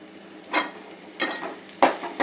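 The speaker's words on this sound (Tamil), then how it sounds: "நல்லா எண்ணெயில் வதங்கட்டும்." Ground masala paste frying in oil for an anchovy fish curry, a close sizzle with a few stirring scrapes at roughly half-second intervals.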